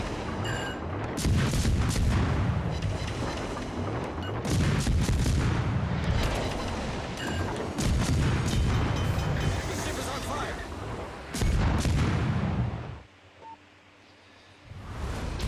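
Gunfire in a video game, a sustained barrage of loud booming shots and rapid bursts that stop abruptly near the end, leaving a quiet hum before one more shot.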